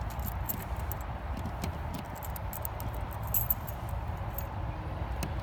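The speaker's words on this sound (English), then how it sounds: "the car has the original Briggs & Stratton keys" Original Briggs & Stratton keys for a 1967 Pontiac GTO jangle in a light, scattered metallic clinking over a low, steady background rumble, with no talking.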